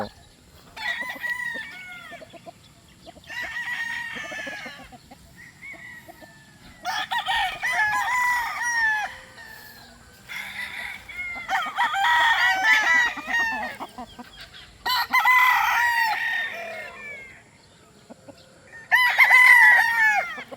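Pure Boston gamefowl roosters crow repeatedly in long, loud bursts, interspersed with clucking and other bird calls, several birds close by with short quiet gaps between crows.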